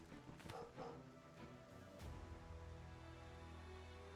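Dog in the video game Final Fantasy VII Ever Crisis, a few quick faint barks early on followed by a low sustained tone, quiet and set within game music.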